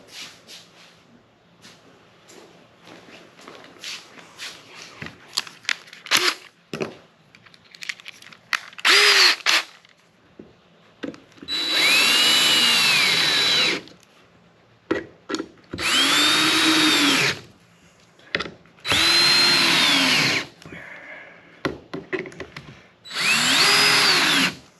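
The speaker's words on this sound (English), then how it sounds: "Let me grab a drill bit." A power drill bores into untreated wood for a simple birdhouse, with several loud whirring bursts of a few seconds each separated by pauses, along with quieter handling clatter early on.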